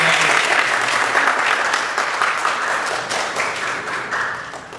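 A church congregation applauds to welcome a returning deacon, a dense round of many hands clapping that starts strong and gradually thins and fades.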